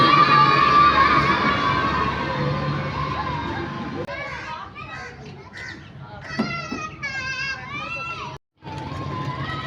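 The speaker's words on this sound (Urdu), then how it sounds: "ابھی یہ بچے بھی شور مچا رہے ہیں۔" Children shout and shriek amid crowd noise at a theme park in Jhelum, a dense, lively din up close, with excited voices and what sounds like talking coming through in the later part.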